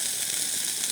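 Food sizzling and hissing in a small camping pot during a wild camp, a steady close crackle with no talk.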